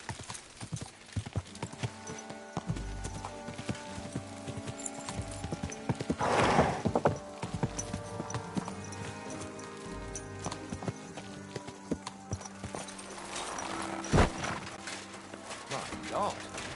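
Steady clip-clop of horse hooves with a couple of whinnies in the video game Kingdom Come: Deliverance II, under background music and occasional voices.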